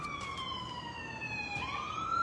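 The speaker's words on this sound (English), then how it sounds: "It's an ambulance." A wailing ambulance siren passes at a moderate distance, its tone sliding down and then back up over a steady background hum, faint and alone with no talking.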